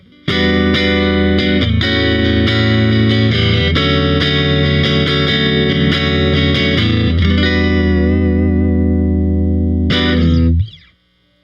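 A Fender American Pro Classic Jazzmaster electric guitar played on its neck pickup with Coastline 65 pickups, driven through distortion and chorus effects, strumming loud sustained chords for about ten seconds before a final strum rings out and stops.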